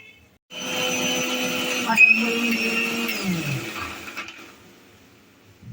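A kitchen mixer grinder whirs loudly, grinding masala for chole, with a sharp start, a steady high-pitched motor whine that wavers as the load shifts, then spins down and fades out.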